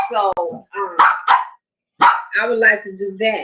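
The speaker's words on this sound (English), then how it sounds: "Excuse my dog." A pet dog barks a few times at close range during a home conversation, its short bursts mixed in with and partly overlapping a woman's ongoing speech.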